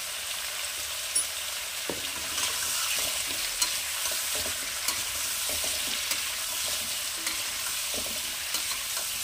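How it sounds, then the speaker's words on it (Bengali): Vegetables seasoned with a little salt and turmeric fry in a pan, making a continuous soft sizzle with occasional light stirring knocks and scrapes. "এটাও হালকা ভেজে নেব। কিছুটা ভাজা হয়েছে"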